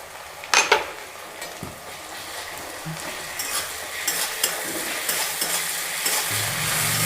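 Garlic paste frying with onions in a pan for a country chicken curry, a steady close sizzle with stirring scrapes and a few clinks of a utensil against the pan.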